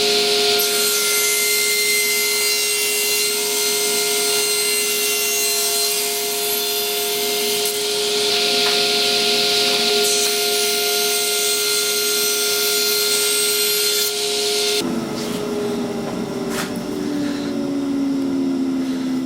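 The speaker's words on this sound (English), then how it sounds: "now I'm going to cut it on the table saw" A table saw rips through a piece of wood while making dowels, a loud steady whine with grinding cutting noise throughout, shifting in tone near the end as the cut finishes.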